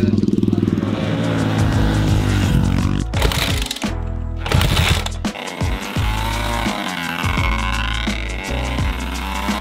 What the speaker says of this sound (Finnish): Joten mopot käyntiä, lähdetään ajamaan.